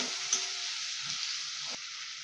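Sliced onion and tomato fry in a pan, a soft steady sizzle with a brief scrape partway through, close but fairly quiet and without voices.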